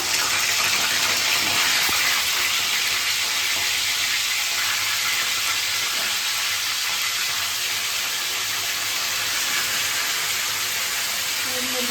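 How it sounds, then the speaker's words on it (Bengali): Chicken pieces fry in hot oil in a kadai, making a dense continuous sizzle that stays loud and even throughout with no pauses. "তারপর আমি মাংসটাকে তেলের মধ্যে দিয়ে দিচ্ছি।"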